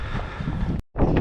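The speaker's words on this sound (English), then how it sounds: "So I'm hoping you can hear me because it's quite windy" Strong wind buffeting the microphone outdoors on a hill trail near a limestone mine, a steady rumbling roar that cuts out briefly before gusting back in.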